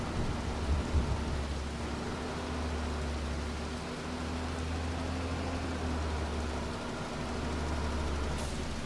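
Steady rain in Farming Simulator 25, a continuous even hiss of falling water with a low rumbling drone underneath, holding constant throughout with no voices.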